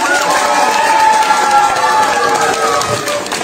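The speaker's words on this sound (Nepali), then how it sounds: "जोरदार ताली दिनुहोस् उहाँलाई" A crowd at a talent hunt show in Pedong applauds and cheers a performer, steady dense clapping with voices mixed in, loud and close throughout.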